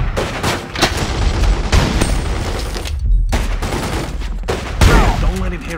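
Rapid bursts of gunfire erupt in The Godfather 2 video game, loud and close, with dense overlapping shots and booms that pause briefly before resuming.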